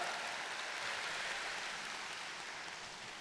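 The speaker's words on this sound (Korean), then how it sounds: "함께 영광의 박수 올리겠습니다" Congregation at a church summer revival assembly applauding in a steady, dense wash of clapping, fairly distant and gradually fading.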